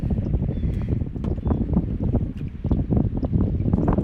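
Wind blowing over open water during a kayak outing: a steady, close rumbling gust noise buffets the microphone throughout, with no voices.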